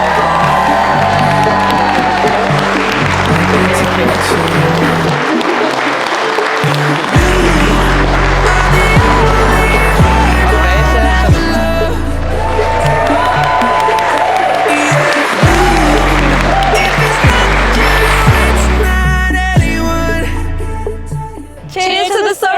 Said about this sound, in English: So can you please give them all a very noisy round of applause?